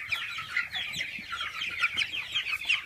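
Healthy, fast-growing farm chickens clucking continuously, a flock of overlapping soft chirpy calls and clucks at close range with no talking.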